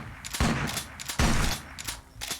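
Shotgun blasts in a first-person survival video game, two loud booming shots about a second apart, each with a sharp crack and a rumbling tail, then a fainter third report.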